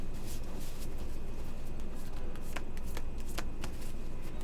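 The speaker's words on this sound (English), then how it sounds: "let's shuffle that real quick" A full deck of playing cards is riffle-shuffled at a poker table, with a steady run of close, crisp flutters and a few sharper snaps as the cards interleave.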